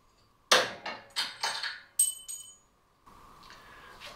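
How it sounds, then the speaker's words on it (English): Several sharp metallic blows from a 1 kilogram hammer striking a 3D-printed stainless steel part ring out one after another, each with a bright clanging tail, followed by a quieter hum. "And now this is 1 kilogram hammer."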